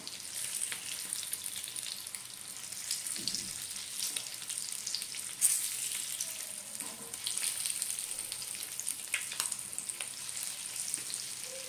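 Eggs fry in a pan after being gently flipped, their second side cooking. A continuous close sizzle crackles steadily with a few soft scrapes and one brief sharper clink partway through, and no talking.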